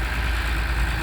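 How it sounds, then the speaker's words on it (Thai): A backhoe excavator's diesel engine idles as it comes down, a steady low rumble with a faint drone on top, fairly loud and unbroken for a second with no talking. "เบโคลงมาแล้วครับผม"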